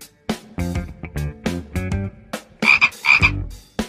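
An animated frog croaks loudly and close in a rhythmic series of about eight to ten short, throaty croaks, ending in two higher, trilling calls, with no voices over them.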